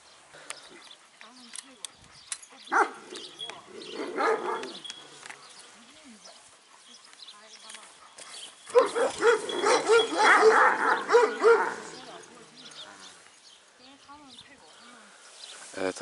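A black-and-gray brindled female Kangal dog in China barks in bursts outdoors, with louder clustered barking near the middle and faint yips, mixed with people talking nearby.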